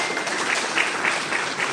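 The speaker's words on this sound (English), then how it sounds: "Y'all clap y'all hands just right there." Audience applause at a graduation ceremony, a short burst of steady, dense clapping from a crowd, heard alone.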